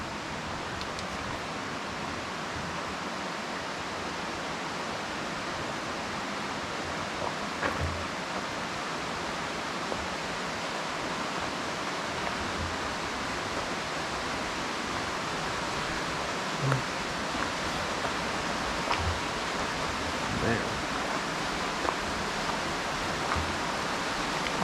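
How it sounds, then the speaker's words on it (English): Small waterfall about a foot tall in Boulder Cave, a steady, even rush of falling water that fills the whole stretch with no pauses, with faint scattered knocks and no talk. "Wow, there's a waterfall. Small waterfall, you know, like 1 foot tall."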